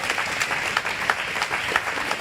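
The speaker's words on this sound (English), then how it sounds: "let's give them a big round of applause" A community band audience gives a round of applause for First Baptist Church, a moderate, even patter of many hands clapping at mid distance, with no voices over it.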